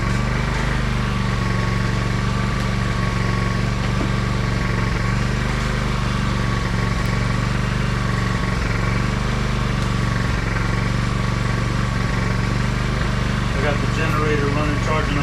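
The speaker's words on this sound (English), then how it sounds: "Generator running, charging up the Ryobi batteries." A portable generator hums steadily nearby, charging Ryobi tool batteries in a workshop, its low engine drone holding constant and loud throughout with no pauses.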